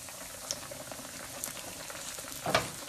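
Pizza frying in a hot pan on a stovetop, a continuous soft sizzle and bubbling hiss with light popping spatters, one sharper crackle near the end.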